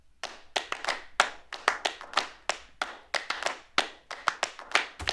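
A layered clap loop built from a sampled loop, a drum clap sample and self-recorded hand claps, playing as a busy, syncopated groove of quick stacked snaps, close and moderately quiet.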